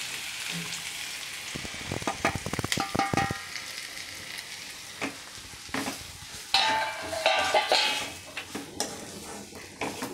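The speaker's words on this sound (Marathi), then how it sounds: "आता आपण यात आपला भाजलेला रवा टाकून देऊयात।" Roasted semolina (rava) being added to onions frying in a pan for upma, with a close sizzle, clinks and scrapes of a spoon against the pan, and bursts of stirring.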